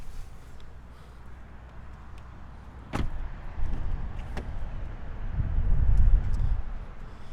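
A car door of a 2019 Chevrolet Blazer RS opens and shuts as someone climbs out, with two sharp close clunks followed by rustling movement and a low rumble.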